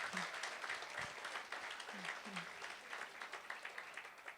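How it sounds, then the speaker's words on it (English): Audience applause for the coaches at the UJ Sport Gala Awards Ceremony 2019: steady, sustained clapping from a large room, moderately distant and even in level throughout, with faint voices underneath. "Can I ask for a round of applause for our coaches?"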